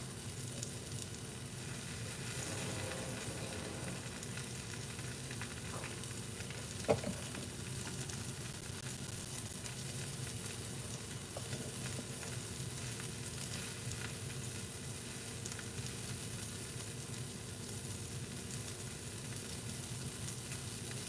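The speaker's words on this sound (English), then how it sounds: "searing it off on both sides so that it has a good brown color before I put it in the oven" Beef pot roast searing in a pot, browning on both sides before going into the oven, gives a steady, continuous sizzle and frying hiss with a faint clink near the middle, and nobody speaks.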